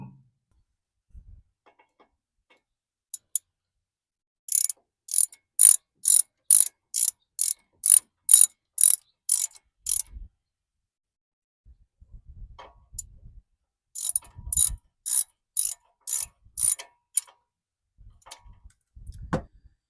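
Ratchet bolting the caliper bracket on a Chevy Silverado, heard as two close runs of rapid, evenly spaced clicks separated by a short gap, with a few quiet knocks in the quiet stretches.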